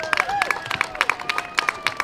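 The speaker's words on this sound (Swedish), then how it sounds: "En stor applåd till klassen som vann teckningstävlingen." Applause at an outdoor traffic-week event for the school class that won a drawing contest, a quick patter of hand claps from a small crowd, with a few voices mixed in.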